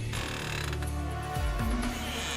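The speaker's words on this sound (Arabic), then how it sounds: "وفجأة سمع صوت تك باب بيتقفل ببطء وراه." A door slowly swings shut behind someone, giving a short creaking, ratcheting mechanical sound with low groaning sweeps and a click, dense and close in a brief horror-style effect.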